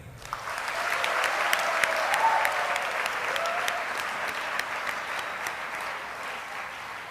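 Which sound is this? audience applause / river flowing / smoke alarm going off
audience applause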